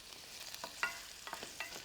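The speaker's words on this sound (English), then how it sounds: "You can hear that nice sizzle." Caramelizing food sizzles in a hot pan while being stirred, a soft crackling hiss broken by several scraping stir strokes, fairly quiet with no talk.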